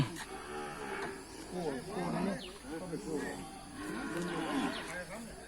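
Cattle at a northern Thai livestock market low and moo repeatedly in several drawn-out calls, fairly close and moderately loud, with a voice talking amid the market noise.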